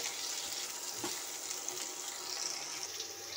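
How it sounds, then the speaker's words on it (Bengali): Potatoes and five-spice seeds frying together in oil, a steady broadband hiss of sizzling with a faint clink near the one-second mark, constant and moderately loud with no voices. "দিয়ে আমি 5 ফোড়ন আর আলু একসাথে ভেজে নেব, লাল লাল করে ভেজে নিতে হবে।"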